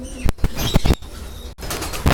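Pigeons in a backyard pigeon colony flap their wings in several quick, close bursts over a steady rustling background, with faint chirps between.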